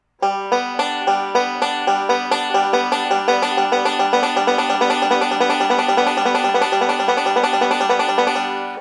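Fast, even three-point roll of plucked bright string notes on a banjo, repeating continuously and ringing together, played alone.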